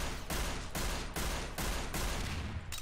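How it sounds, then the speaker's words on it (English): Slow, evenly spaced gunshots from a slow-firing gun in a Garry's Mod DarkRP game, with about five loud, near blasts each ringing into the next. "Oh, this is the slowest shooting gun I've ever seen."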